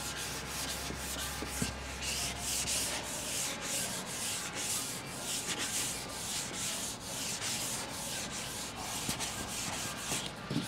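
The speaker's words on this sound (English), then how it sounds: "this is so much better with this 320 like this. Cause there's like no sand scratches." Close, continuous rhythmic rasping as a sanding block with 320 grit sandpaper is pushed back and forth over body filler on a van panel, steady strokes with no voices.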